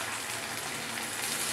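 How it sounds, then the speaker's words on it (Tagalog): A small amount of water is poured into a cooking pot for odong noodles with sardines, giving a steady, close splashing rush that lasts the whole short moment with no talking. "Maglagay na tayo ng konting tubig."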